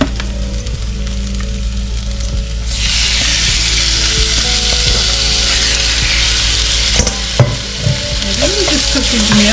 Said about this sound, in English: And I'm going to saute this off.